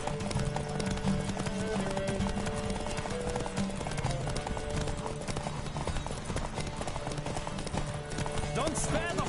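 A horse gallops in The Witcher 3: Wild Hunt, rapid rhythmic hoofbeats pounding steadily and close, with voices calling out over the hooves.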